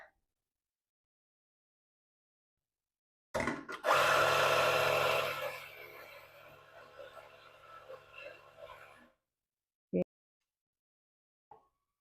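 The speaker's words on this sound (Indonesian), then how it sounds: "kalau kita giling beberapa kali apakah hasilnya tetap sama atau enggak" A Guerrero GR-74 commercial coffee grinder grinding a small dose of beans: after silence, a loud motor whir starts abruptly, then settles into a lower steady hum for about five seconds before cutting off, with a couple of brief knocks afterward.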